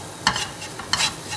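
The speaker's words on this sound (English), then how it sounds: "While the wheat is cooking in the butter" Wheat flour cooks in melted butter in a pan, giving a soft sizzle with two brief scraping stir strokes, close and quiet, with no voices.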